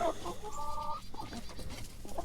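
A small female Brahma hen clucks close by in a farmyard, a few soft drawn-out clucks and murmurs with faint background rustle.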